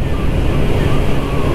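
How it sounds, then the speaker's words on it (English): Strong wind roars steadily across the microphone of a Kymco Agility 50 scooter riding at about 40 mph, a loud, dense rush with no break. "the wind's right on us"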